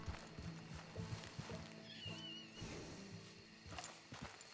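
A horse in Red Dead Redemption 2 whinnies mid-clip while hooves clip-clop at a walk, fairly quiet, with faint speech nearby.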